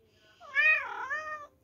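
A house cat gives one clear, close meow that rises and then falls in pitch, heard alone in a quiet room at night.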